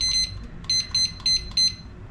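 A toaster oven timer is set for thirty minutes, giving five short electronic beeps at an even pace, clear and close against quiet room noise.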